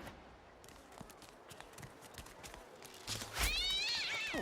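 A cat meows in the fantasy role-playing game Divinity: Original Sin 2, a rising, wavering cry that comes near the end over quiet ambient game sound.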